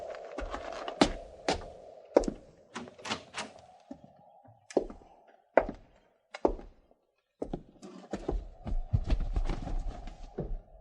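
Horses' hooves land in hard hollow clops and thuds irregularly, several in a row with pauses, close and fairly loud against a quiet background with a low hum.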